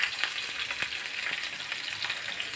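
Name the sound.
onions frying in oil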